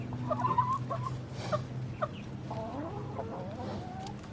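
Several chickens cluck and murmur nearby, with soft repeated clucks and a few rising calls over a low background hum.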